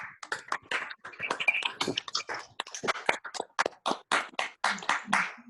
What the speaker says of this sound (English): Let's give Neil a birthday clap of applause.